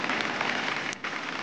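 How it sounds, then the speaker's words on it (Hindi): Heavy monsoon rain in the Uttarakhand mountains, falling as a steady, dense hiss of downpour on surfaces, loud and unbroken throughout with no voices. "बारिश शुरू हो गई है और देखो ये नदियां उफान पे आ गई हैं"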